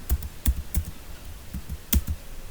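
Search text is typed on a computer keyboard, a handful of close, distinct key clicks in an irregular rhythm over a quiet background, with no talk.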